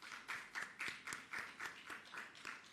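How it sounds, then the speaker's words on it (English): Scattered claps from an audience at a government press briefing, faint and in a steady rhythm of separate hand strikes with no voices over them. "I think that deserves a clap."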